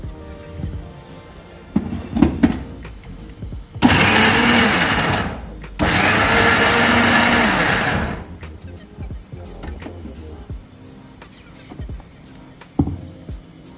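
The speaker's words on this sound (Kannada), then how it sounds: "ಅದನ್ನು ಜಾರಿಗೆ ಹಾಕ್ಕೊಂಡು ಮತ್ತೆ ಒಂದೇ ರೌಂಡ್ ರುಬ್ಕೊಳ್ಳಿ" A mixer grinder coarsely grinding onions for chutney whirs loudly in two short bursts, pulsing on and off, with quieter handling sounds before and after.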